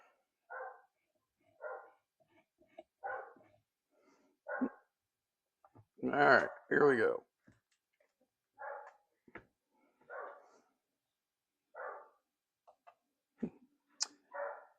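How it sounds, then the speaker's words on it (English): A dog in a house next to a garage barks and whines in short separated bursts, with a couple of louder, longer howl-like cries midway; someone speaks briefly in between. "hear my dog in the background is not real happy that I'm out in the garage without her"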